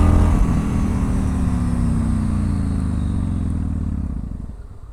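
A Yamaha MT01 motorcycle's big engine runs loud and close, its pitch dropping steadily while it slows on engine braking, then the rumble fades away at the end.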